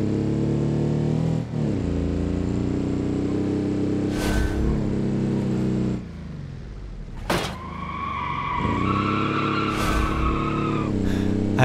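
A low-grip, 50-horsepower rear-wheel-drive Autobello Piccolina in BeamNG drones loudly while its tires squeal in several separate bursts, with the engine note dipping and climbing between skids.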